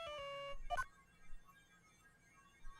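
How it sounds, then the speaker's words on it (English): Short electronic cell phone ringtone from the Phoenix Wright: Justice For All game, a quick burst of bright melodic tones lasting about a second, fairly quiet, followed by low background hum. "All of a sudden, the phone began to ring."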